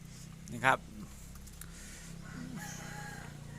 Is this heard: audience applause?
no